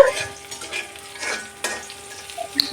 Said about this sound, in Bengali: পেস্টটা একটু ভালো করে ভাজতেছি যাতে কাঁচা কাঁচা না থাকে সয়াবিন তেলের ভিতরে